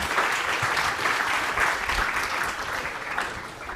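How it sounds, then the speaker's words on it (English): An audience at a university startup pitch event applauds a team in a steady, full wash of clapping, moderately distant, holding level before tapering slightly at the end. "Let's give a round of applause to the team."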